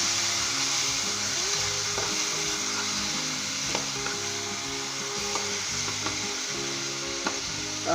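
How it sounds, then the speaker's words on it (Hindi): Tomatoes sizzle steadily in an oily pan of Punjabi-style white brinjal (safed baingan) masala, with continuous frying crackle and occasional spoon scrapes while being stirred, close and fairly loud. "दोस्तों इसे मैं 5 से 10 मिनट तक अच्छे तरीके के साथ इसे भूनूंगा, जब तक हमारे टमाटर सॉफ्ट नहीं हो जाते"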